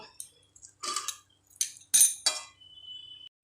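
Egg chowmein with green chillies is tipped out of a pan onto a plate after cooking, making a few quiet, sharp clinks and scrapes separated by brief silences.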